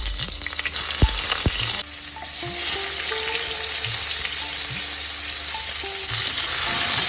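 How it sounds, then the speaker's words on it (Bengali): About 250 grams of paneer fries in hot oil with a steady broadband sizzle, joined by a few scraping stirs and clinks of a utensil early on. No one speaks. "এই পনিরটা এবার ভেজে দেবো।"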